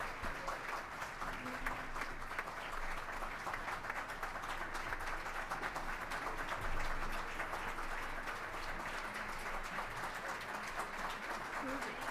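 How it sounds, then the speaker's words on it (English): An audience at a National Philanthropy Day award ceremony keeps up long, even applause for honored philanthropists, a steady low-level wash of clapping heard from a distance. "Please continue your applause for our 2021 Philanthropists of the Year, Rosemary and Mark Schlachter"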